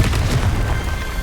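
A Confringo blasting spell goes off in Hogwarts Legacy, a loud, sustained booming explosion with a dense low rumble and crackling debris lasting just over a second.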